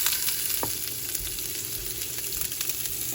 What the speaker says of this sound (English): To this I'm adding mustard seeds, curry leaves and the chopped onion